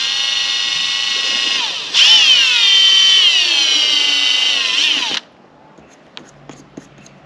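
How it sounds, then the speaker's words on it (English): A power drill drilling a pilot hole for a Starlink cable pass-through whines steadily at close range, rising in pitch as it bites, then cuts off abruptly, leaving a few faint clicks. "just going to drill through here, cross our fingers, just a pilot hole"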